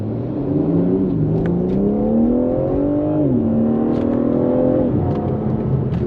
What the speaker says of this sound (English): Great engine note.